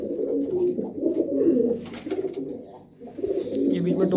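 Pigeons cooing in a pigeon keeper's loft, several close, loud, repeated throaty coos that overlap in rolling bursts, with a brief dip in the middle.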